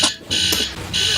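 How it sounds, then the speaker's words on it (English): A phone alarm set as a bedtime reminder rings with bright, piercing electronic bursts that stop briefly and start again, loud and close, with no talk. "is my alarm to say that I need to go to bed"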